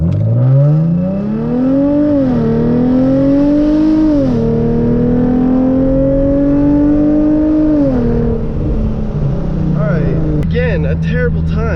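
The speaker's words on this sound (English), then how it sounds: "I kind of just floored it from a standstill to see what would happen" A Hyundai Genesis Coupe 3.8 V6 launches hard from a standstill, the engine loud and close as it revs up through rising pitch sweeps with several shift breaks, then settles toward the end.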